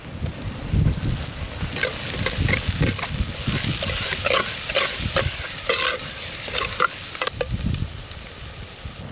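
Ginger paste fries in a pan with turmeric for a chicken fry, a close, crackling sizzle that keeps going while repeated scraping and stirring strokes scrape in bursts across the whole stretch.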